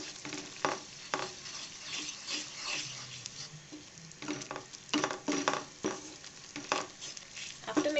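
A spoon works through mushroom curry with cream in a kadhai, giving a soft bubbling sizzle broken by repeated close scrapes and taps against the pan.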